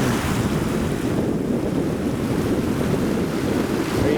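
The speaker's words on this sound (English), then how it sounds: "This is the outflow of Lake Muriel." Water rushing steadily over rocks at the outflow of Lake Muriel on a mountain trail, a loud continuous broadband roar with wind buffeting the microphone, no voices.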